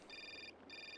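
A telephone rings in the video game Syberia, two steady electronic trilling bursts with a short gap between them, fairly quiet and heard alone.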